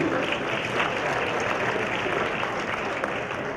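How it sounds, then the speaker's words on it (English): Conference crowd at an internet summit in Raleigh breaks into continuous applause, a thick, even roar of many hands clapping from start to finish, with some voices mixed in. "So let's give all of you a round of applause."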